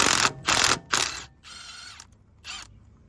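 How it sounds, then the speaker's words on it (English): Ratchet wrench working a 10mm bolt on a brake line bracket of a GMC, Chevy or Ford truck, giving several close, sharp clicking bursts in quick succession with short pauses between them. "Now we have our 10mm on that bolt."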